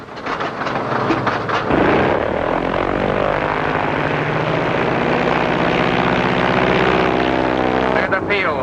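A roaring 1940s propeller airplane engine comes in for an emergency landing loaded with bombs, a loud, steady drone with a rising surge partway through that holds to the end, heard in an old radio-style serial.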